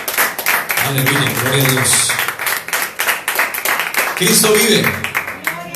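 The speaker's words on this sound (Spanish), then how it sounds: "Vamos a darle, mis hermanos, ofrenda de palmas al que se las merece" A church congregation claps together as an offering of applause during a Spanish-language worship service. The clapping is rapid and continuous and sits under loud preaching and shouts from the congregation.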